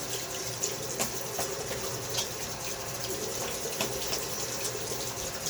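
Tap water running steadily into a sink for rinsing during a wet shave, a continuous moderate splash with small clicks and knocks, no talking.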